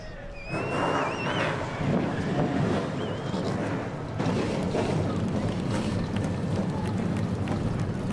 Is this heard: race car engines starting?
yes